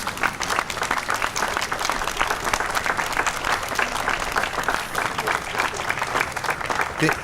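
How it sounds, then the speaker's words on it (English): An audience applauds a group of veterans from a recent war, the clapping dense and steady throughout, with a voice faintly audible beneath it. "Please give them a round of applause"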